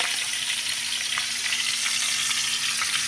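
Onion sautéing in a pan as the start of a chayote adobo, a steady, close sizzle with a faint tonal hum beneath and a few soft stirring clicks, no voices.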